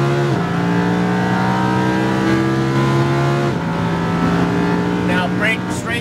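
Lamborghini Huracan engine on a race track at full throttle, a loud sustained rising drone with a brief gear-change dip midway, while a voice talks over it.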